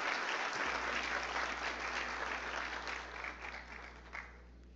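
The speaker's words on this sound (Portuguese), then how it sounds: "Uma salva de palmas a todos." Audience applause for three magistrates at the swearing-in ceremony of the national OAB president, a broad steady wash of clapping from a large crowd, carrying on evenly and thinning slightly toward the end.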